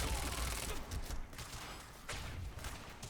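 Loud, dense bursts of rapid gunfire in the video game Quantum Break, a near-continuous barrage of shots filling the whole stretch.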